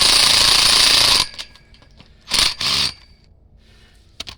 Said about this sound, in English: You want to go slow with these lag bolts because you can snap them